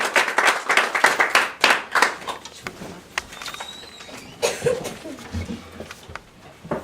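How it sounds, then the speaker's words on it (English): A family no-talent show audience claps in a burst of hand claps at a home Christmas-season performance, strong and close at first, then thinning into scattered claps with a few voices. "Let's have a nice round of applause for Shane and how Santa became the King of Christmas."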